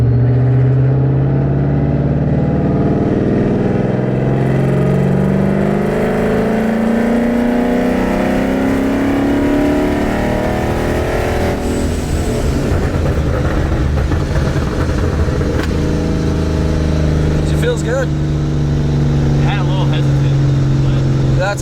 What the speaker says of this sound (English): throw it in third gear, and do the same thing.